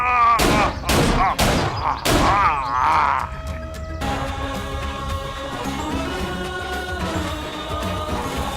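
Rapid bursts of gunfire in a dubbed action film shootout, several sharp loud shots in the first few seconds, then a sustained dense mix of music and effects.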